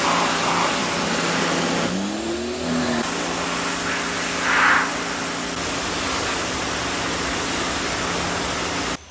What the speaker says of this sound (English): I'm gonna go ahead and take the pressure washer and pressure wash this engine off